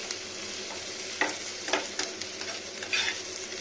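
Ridge gourd and onion sizzle steadily in a hot pan while a utensil stirs and scrapes through them in several distinct strokes, each briefly rising above the constant frying hiss.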